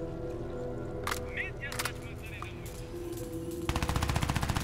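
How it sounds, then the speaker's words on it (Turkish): Sharp bursts of gunfire from the video game Crysis 2 crack out amid game ambience, with isolated shots early and a rapid automatic volley near the end, all fairly quiet. "Ha silah sesi geldi."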